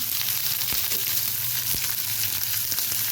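Grated beetroot and ginger fry in a pan with a steady, fairly loud sizzle, broken by a couple of sharp scrapes as a spoon stirs.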